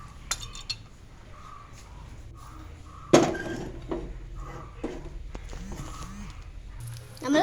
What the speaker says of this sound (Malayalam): നമ്മൾ കായ ഇട്ട് ഇളക്കി കൊടുക്കുകയാണ്.